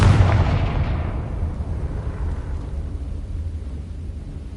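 A Confringo blasting spell in Hogwarts Legacy detonates with a loud booming explosion up front, its heavy rumble slowly fading into a long low decay.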